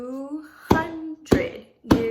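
A drum gives three firm, evenly spaced strikes in a slow rhythm, each ringing briefly. A short sustained voiced tone comes just before the first hit.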